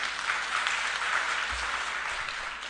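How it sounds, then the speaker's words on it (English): An audience applauds after a short drama performance at an International Day of the Girl Child event in a Lilongwe conference centre, with continuous clapping at a moderate distance and a faint low thump midway. "Guys, a round of applause."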